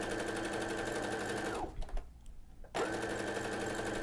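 A sewing machine runs steadily stitching knit fabric through a binder foot with twill tape, pausing briefly in the middle before starting up again, close and fairly even in tone.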